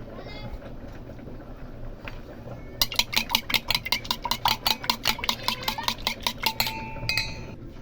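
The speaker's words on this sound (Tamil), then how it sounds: "இப்போ இதில் ஃபுல் மிக்ஸ் பண்ணிக்கின்னு நல்லா கலக்கிக்கணும்." Egg white and banana are beaten together in a bowl for a homemade hair shampoo: a fast, steady run of about twenty close utensil clinks and whisking strokes, preceded by a voice speaking.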